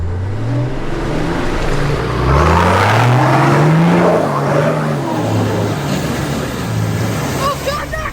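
An off-road truck on 37-inch tyres, in second gear low with the lockers in, ploughs through a mud bog. Its engine revs rise and fall in repeated surges, loud and close, with some faint background noise.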